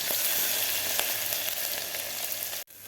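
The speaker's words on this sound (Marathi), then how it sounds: "अद्रक लसूणची पेस्ट आपल्याला 1 मिनिटभर व्यवस्थित फ्राय करून घ्यायची आहे" Ginger-garlic paste sizzles and fries in a hot pan for a pea and cashew pulao, a steady close crackle with occasional stirring scrapes. It cuts off abruptly near the end.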